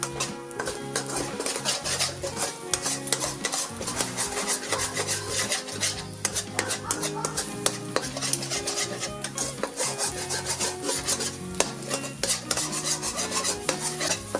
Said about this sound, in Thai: ใส่ไข่2 ฟองขยี้ไปนะคะ